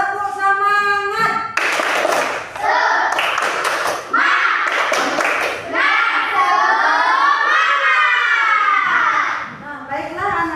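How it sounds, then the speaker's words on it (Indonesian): Schoolchildren in a classroom Islamic history lesson perform the 'tepuk semangat' clapping chant, loud patterned bursts of handclaps alternating with sung and shouted chanting by the group. "Tepuk semangat."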